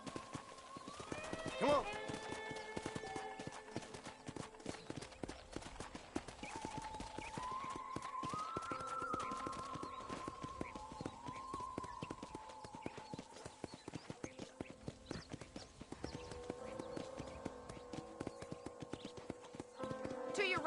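A horse gallops in the video game Red Dead Redemption, its rapid clip-clop hoofbeats running steadily throughout, with a neigh early on, while people talk over it and light music plays.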